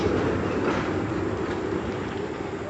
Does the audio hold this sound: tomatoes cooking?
no